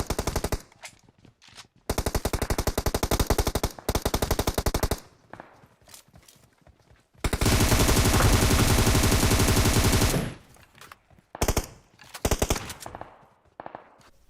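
Automatic gunfire rattles in PUBG Mobile: several loud machine-gun bursts, a long sustained volley in the middle, then scattered shorter bursts with quiet gaps between.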